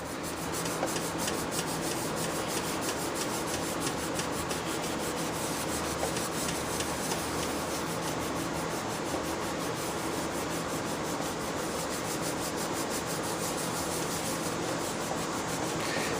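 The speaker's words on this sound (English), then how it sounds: "scrub on it a little bit, see if we can get that rust off" Shop towel scrubbed hard against rusty solid steel, a steady, continuous rasping rub that runs without pause for the whole stretch, close and fairly loud with no talking.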